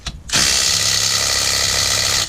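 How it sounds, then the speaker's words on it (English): A Milwaukee power tool, likely an impact wrench, spins lug nuts off a rebuilt rollover wreck, starting after a brief pause and then running loud, steady and close for about two seconds with a grinding, ratcheting whir. "So now I can take my lug nuts off."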